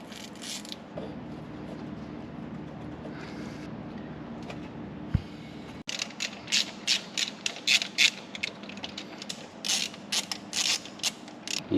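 A ratchet clicks in short, uneven bursts while drawing up the mounting bolts on a Porsche 944 balance shaft, close and clear over a quiet garage background.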